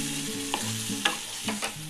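Mutton sautéed with garam masala in a pan sizzles steadily while a spatula scrapes through it in a few distinct strokes, close and clear with no voices.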